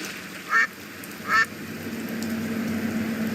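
Two short, bright duck quacks about a second apart in the point-and-click adventure game Secret Files 2: Puritas Cordis, heard over a low steady ambient hum with no talking.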